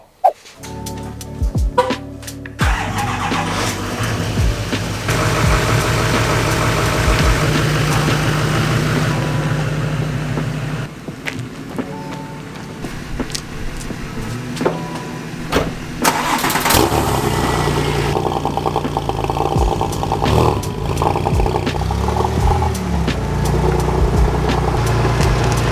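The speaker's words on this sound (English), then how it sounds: "Potentially the last drive in the 996 with the current fab speed exhaust" Porsche 996 Turbo with a Fabspeed exhaust starting up after a few clicks, then idling with a deep, loud burble and rising revs, recorded close.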